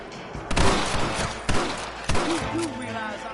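Sharp gunshots crack in a Red Dead Redemption shootout, three or four loud, spaced blasts with echoing tails, mixed with game voices and low background ambience.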